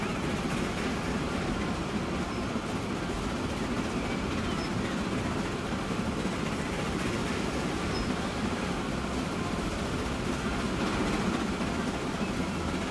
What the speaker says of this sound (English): let's go ahead and ride along on this train right here